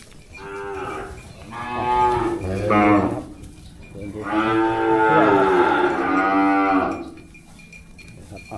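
Native cattle moo at a cattle market in Tak, Thailand: several long, drawn-out calls follow one another closely, fairly loud and near, with no other sounds standing out.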